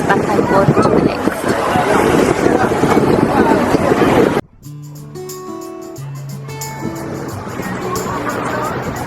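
A boat carries passengers between islands on a Langkawi island-hopping tour, its engine and wind roar loud and steady before cutting off abruptly midway, followed by quieter background tones and chatter.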